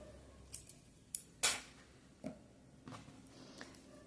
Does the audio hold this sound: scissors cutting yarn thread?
yes